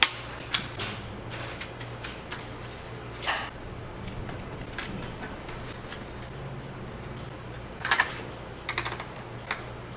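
Small metallic clicks and ticks of a wrench working nuts, irregular and close, over a low steady hum, with a quick cluster of clicks near the end.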